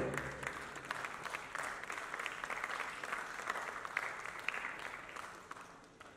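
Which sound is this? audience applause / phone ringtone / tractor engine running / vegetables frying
audience applause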